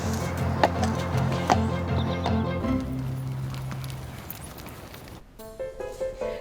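A horse's hooves clip-clop in a steady run of distinct hits, heard close and clear under a sustained musical drone, with an occasional whinny-like sound.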